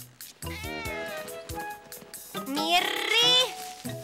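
A cartoon cat meows several times in a short sequence, tonal and expressive with rising and falling cries, loud and close over light background music.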